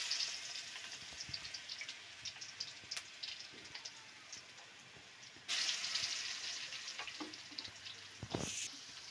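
Garlic and green chilli paste, ground in a mixer, frying in hot oil for a fried rice tempering, with a steady crackling sizzle throughout that grows louder and denser about halfway through, with no voices.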